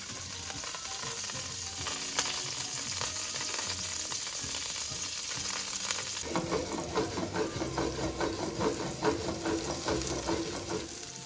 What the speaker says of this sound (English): Now I'm putting more butter in my pan, a little more olive oil, and I'm going to just put the rest of the pieces of steak in here now.